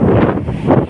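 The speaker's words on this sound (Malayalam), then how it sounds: "നല്ല കാറ്റും" Wind blows hard across a beach, buffeting the microphone in loud, uneven gusts with a brief dip midway through one second of rough rumble; no voices.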